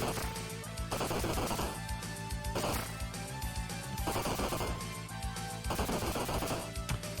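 An Uzi fires in the video game Last Alert, loud rapid bursts of gunfire repeating in a steady rhythm with short gaps between volleys.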